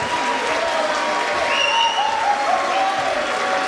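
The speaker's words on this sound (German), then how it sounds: "Applaus nochmal für die beiden Fighter!" An audience at a German MMA fight event applauds the two fighters after the bout: dense, sustained clapping that holds at an even, fairly loud level throughout, with light crowd noise and no voices standing out.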